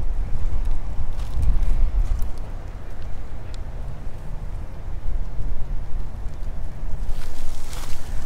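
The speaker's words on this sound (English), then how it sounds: "There's the wind." Wind blows steadily across a microphone at a fishing spot, a loud low rumbling buffet that swells and eases over several seconds, with faint scattered clicks above it.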